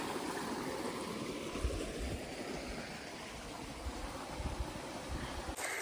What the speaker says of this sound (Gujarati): રેડી પાણી ચાલુ છે અત્યારે આપણે તુવેરમાં